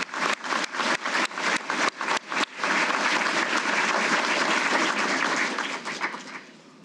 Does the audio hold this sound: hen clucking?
no